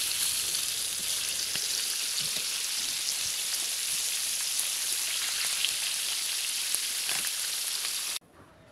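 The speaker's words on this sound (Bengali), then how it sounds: "মাছের এক পাশ হালকা ভাজা হলে সবগুলা মাছ উল্টে দিব।" Pangas fish fry in hot oil in a pan with a dense, steady, close sizzle and crackle that stays even throughout, then cuts off abruptly near the end.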